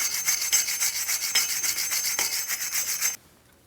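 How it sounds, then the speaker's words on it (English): Steady abrasive rasping of a wire brush or light sanding disc scrubbing a Jeep Grand Cherokee rear CV axle mating surface, continuous with slight rhythmic strokes, close and fairly loud, stopping abruptly near the end. "You can use a wire brush or a light sanding disc."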